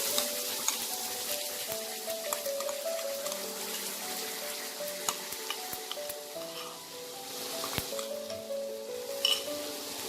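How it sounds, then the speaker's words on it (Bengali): A pan of Kashmiri dum aloo sizzles steadily as yogurt batter is stirred through it without pause, with a continuous close frying crackle and occasional soft scrapes of the spoon and no voices. "এদিকে তারপরে কন্টিনিউয়াসলি আমাদের নেড়ে দিতে হবে, না হলে দইটা ফেটে যাবে"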